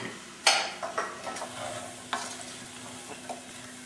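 Potatoes and garlic frying in a pan, with a soft steady sizzle broken by a few sharp stirring scrapes and clinks, close and alone without talk.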